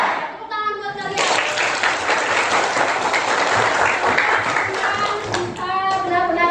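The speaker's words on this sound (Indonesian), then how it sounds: "Tepuk tangan buat kalian." Group of children claps loudly and briskly for several seconds, framed by an adult speaking just before and after the burst.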